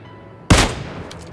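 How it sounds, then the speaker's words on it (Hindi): A single loud Mk 14 rifle shot in a video game, one sharp close crack with a brief booming tail that fades into faint game ambience. "थर्ड शॉट मैंने वापस मिस कर लिया।"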